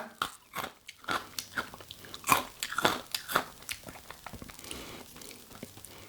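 Crunchy baked Shovy fish sticks are bitten and chewed up close, giving a run of loud, sharp crunches followed by softer crackly chewing, with no talking.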